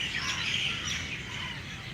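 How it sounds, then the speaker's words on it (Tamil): Crows and sparrows calling at their evening roost, a dense, continuous wash of overlapping chirps and tweets that stays steady and fairly loud throughout, with no voices. "குருவி சவுண்டு கத்துறது எல்லாமே ஈவினிங் அதே மாதிரி தான்."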